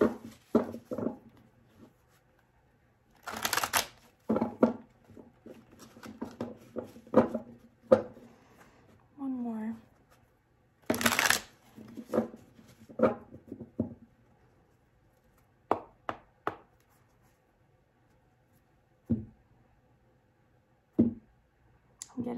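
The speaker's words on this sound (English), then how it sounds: "So I'm going to do 3 more shuffles for Gemini." Quick bursts of tarot cards riffling and snapping together, separated by softer taps and brief pauses, close and fairly quiet.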